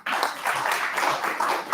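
Audience applause at a corporate sales-training launch event, a steady dense wash of clapping from a room of people, continuous and fairly loud throughout.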